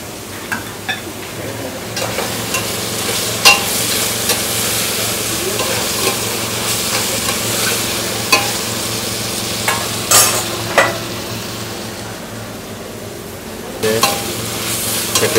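Beans stirred into roasted onion in a frying pan, a steady hiss of sizzling with repeated scraping strokes and utensil clinks throughout, fairly close, no talking.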